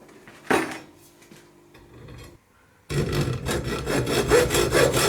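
Hacksaw cutting through wooden blocks, a few scattered scrapes at first, then a steady rapid run of back-and-forth strokes, close and loud, with no talking.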